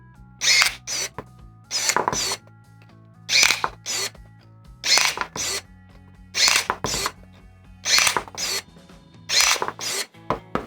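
Procraft ES28Li cordless pruning shears cut through branches of about 23 to 25 mm diameter. Short loud motorized bursts repeat roughly every second, each a whirring snip, with quiet gaps between them and no speech.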